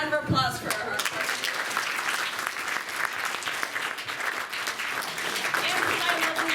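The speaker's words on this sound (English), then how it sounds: "A round of applause for her." Sustained applause at a comic con drawing event, with dense clapping throughout and talking mixed in underneath.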